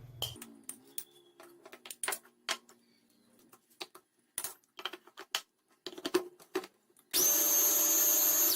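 Clatter and scraping sounds, then a loud, steady whir as a Mito Chiba electric chopper starts and mashes bananas with sugar, continuing to the end.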